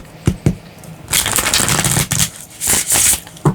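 A tarot card deck is shuffled and then cut by hand: a couple of sharp taps, then a loud riffling burst of cards, a pause, more riffling and a final snap, close up with no talk.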